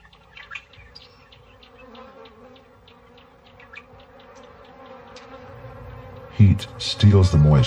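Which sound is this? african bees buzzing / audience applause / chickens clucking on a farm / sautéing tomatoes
african bees buzzing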